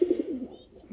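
Pigeons coo nearby, a single low warbling coo that fades out quickly against a quiet background.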